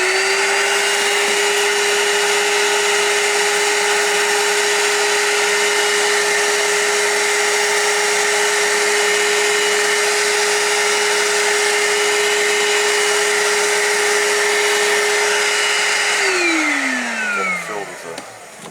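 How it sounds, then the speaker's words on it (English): A small carpet cleaner machine runs on the car carpet of a 1991 GMC Jimmy, a steady loud motor whine with a constant tone that winds down at the end. "you can take your little carpet cleaner"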